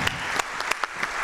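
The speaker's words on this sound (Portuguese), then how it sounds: "Os vossos aplausos então para Teresa Viola nesta participação muito especial" An audience at an accordion gala applauds a fado singer, a steady wash of clapping with a few sharper individual claps standing out.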